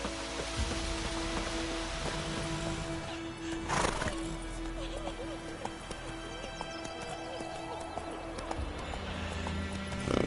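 Horse galloping in The Witcher 3, a steady clip-clop of hooves with a brief whinny, set against rain and a low ambient game soundscape.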